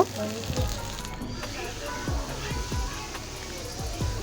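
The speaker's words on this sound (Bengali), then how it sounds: "এখানে আমি মশলাটা কষিয়ে নিয়েছি এখন যে ভেজে রাখা মাছগুলো ছিল ওইগুলো এখন দিয়ে দিব" Fried baim fish and cooked-down spices crackling in a pan for a dry bhuna, a soft steady sizzle with scattered pops and stirring clanks, heard up close at low volume.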